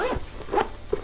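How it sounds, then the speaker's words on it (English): A zipper on an Insignia semi-hard camera case rasps in a few short quick pulls, close and crisp. "here is a zipper"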